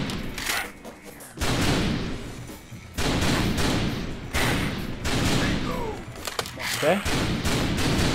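Video game gunfire in House of the Dead Overkill on PS3, loud bursts of shots and heavy thuds coming in several separated volleys, with a player speaking briefly between them.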